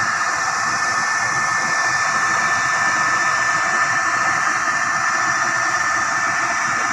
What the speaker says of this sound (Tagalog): Meron itong mini blower